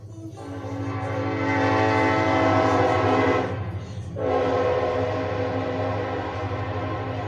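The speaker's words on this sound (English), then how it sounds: "The train is right here. I'm so shocked that this train has passed again." A train rumbles loudly past up close, its horn blaring in long sustained blasts with a brief gap, over a steady low mechanical drone.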